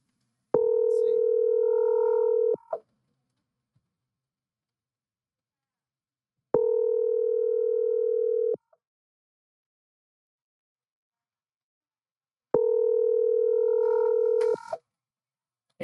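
A phone line rings back while calling someone: three steady two-second tones, clean and loud, separated by long silent gaps.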